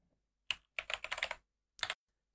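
Computer keyboard keys typed in quick short bursts while entering a terminal command, close and fairly quiet: a single tap, a rapid flurry of keystrokes, then a final short cluster.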